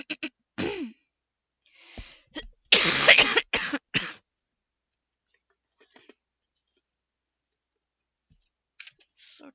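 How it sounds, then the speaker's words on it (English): A person coughs in a few harsh bursts with throat clearing, interspersed with faint clicks and long quiet gaps. "So tired of this cough."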